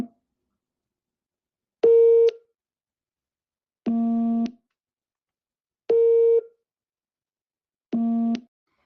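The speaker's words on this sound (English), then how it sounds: "we can use MATLAB to translate the brightness values into sounds, with the black stripe being represented by the lowest notes and the white stripes represented by the highest" Computer-generated musical notes made in MATLAB from image brightness values, four separate electronic tones with buzzy harmonics, each about half a second long, spaced evenly two seconds apart and alternating between a higher and a lower pitch against silence.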